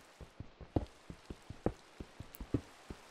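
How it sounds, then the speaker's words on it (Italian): Rain falling in the video game Relaxicraft, heard as scattered, irregular droplet taps over a soft hiss, fairly quiet and without voices. "Il rumore della pioggia è svanito"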